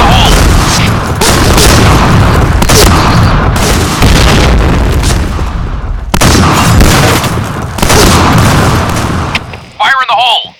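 Loud, dense in-game combat in the shooter Point Blank, with a booming grenade explosion and rapid shotgun fire crowding the mix, broken by brief gaps, while a voice speaks near the end.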